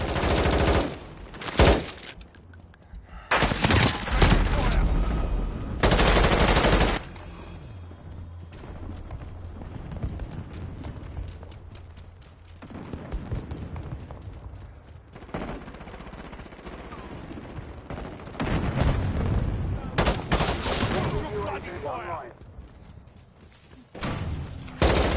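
Call of Duty: Modern Warfare firefight with repeated loud bursts of automatic gunfire and single shots over about 25 seconds, some volleys close and heavy, others lighter, with constant battle ambience between them.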